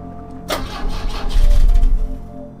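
A car engine in the video game The Drifter cranks but fails to fire: a sharp starter engagement, then a labored, churning rumble that rises and fades out without catching.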